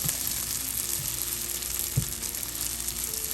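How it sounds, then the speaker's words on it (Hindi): Sweet vermicelli in a frying pan gives a dense, steady hiss and sizzle, with a few soft thumps of stirring underneath. "अब हम इसको अच्छी तरह से हिला लेते हैं।"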